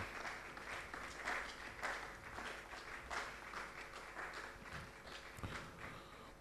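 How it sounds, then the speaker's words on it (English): An audience at a disability career fair at the British Council claps for a panel, a steady, faint round of applause heard from a distance across the room. "Let's continue to give them a round of applause."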